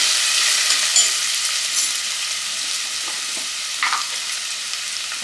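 Ginger garlic paste sizzles and crackles in hot oil for a prawn fry, a steady close hiss with occasional stirring sounds and a brief louder spatter.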